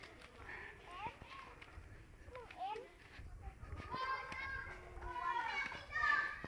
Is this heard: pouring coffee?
no